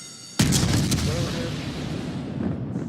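Torpedo striking a warship in World of Warships: a sudden heavy boom kicks in and rolls into a long, rumbling decay that stays loud, with no one talking over it.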